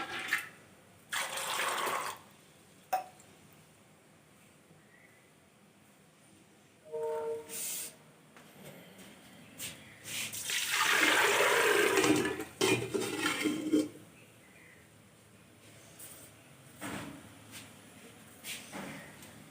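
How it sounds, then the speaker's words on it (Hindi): Water is poured into a pot for boiling rajma (kidney beans) in a home kitchen, a splashing pour around the middle building to a louder rush before tapering off, with scattered clatter and quiet gaps around it. "थोड़ा पानी और डाल देती हूँ।"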